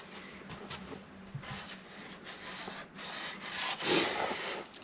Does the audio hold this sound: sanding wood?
yes